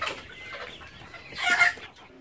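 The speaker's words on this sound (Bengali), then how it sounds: "আমরা এই মুরগিগুলো বিক্রয় শুরু করে দিছি" Desi hens on a poultry farm cluck close by, a few short, throaty bursts with the loudest near the middle of the clip.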